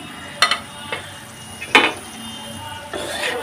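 Vegetables with mint leaves and chopped coriander get stirred in a pan, with a few sharp metallic scrapes and clinks of a spatula over a soft sizzling background, close and fairly loud.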